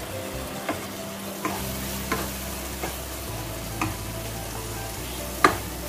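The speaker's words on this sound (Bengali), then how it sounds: "এবার এগুলোকে খুব ভালো করে মিক্স করব।" Chilli powder and cumin powder get stirred in a frying pan for a dhaba-style chicken curry, a low steady sizzle broken by regular spoon scrapes and taps roughly every second, close and without talk.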